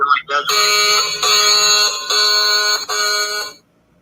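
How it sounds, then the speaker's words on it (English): A phone alarm sounds loud and close in a series of shrill electronic tones, three or four sustained pulses separated by short gaps, before cutting off into silence; a brief voice is heard just before it starts. "Hey, your alarm's going off."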